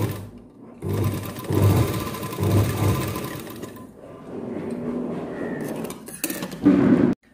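A sewing machine stitches tucks into fabric in bursts of steady rapid whirring with brief pauses between runs, ending with a few light clicks and clinks nearby, with no voice.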